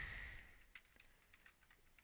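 Fingers tapping on a computer keyboard while filling in a spreadsheet, a quick irregular run of light clicks after a brief fading noise, faint and close with no talking.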